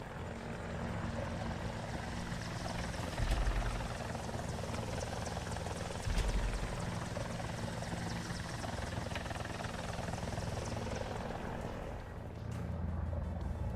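Helicopter in the War Thunder video game, a loud continuous rotor and engine drone throughout with a couple of heavier thumps, no voices.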